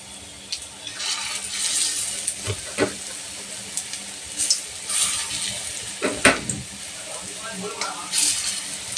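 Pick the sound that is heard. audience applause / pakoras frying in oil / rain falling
pakoras frying in oil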